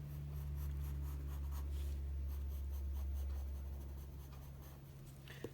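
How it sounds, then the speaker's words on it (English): Pencil on paper drawing and darkening lines, a soft continuous scratchy rubbing in short strokes, close and quiet over a low steady hum. "I'm going to darken some of these lines like I said in my instructions here."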